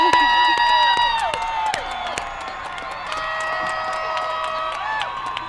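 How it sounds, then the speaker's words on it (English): A crowd at a school district graduation ceremony for the class of 2023 cheers, whoops and applauds loudly. Sustained shouting and clapping fill the hall, with voices rising above the noise throughout. "let's give them one more round of applause. Class of 2023."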